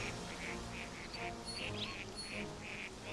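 Ducks in the video game New Pokemon Snap quack in a steady series of short, nasal calls, faint and distant over a dense background of game ambience.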